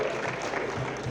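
Audience applause for a DDC member at a public event during a walk to Ram Nagar Fort, a dense, steady burst of clapping filling the whole short moment, fairly loud with no one speaking.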